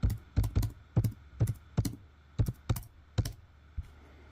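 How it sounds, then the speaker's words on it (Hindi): Someone types a password on a computer keyboard while logging in, a quick run of about a dozen close, crisp keystrokes in an uneven rhythm, with no talking. "पासवर्ड लगाता हूँ मैं।"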